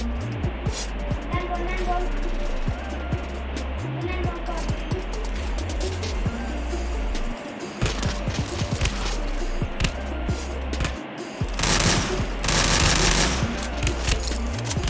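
Bursts of VSS rifle fire in the video game Free Fire, rapid shots crackling over engine-like rumble and game effects, loud and close, with a louder barrage near the end while players talk excitedly.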